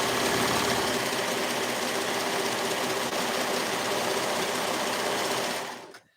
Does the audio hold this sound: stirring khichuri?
no